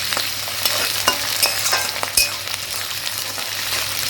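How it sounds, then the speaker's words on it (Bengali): Bay leaves and onions frying in a wok, a loud steady sizzle broken by sharp clinks and scrapes of a spatula stirring, no voices. "এখন তেজপাতা পেঁয়াজ সব দিয়ে দেবো"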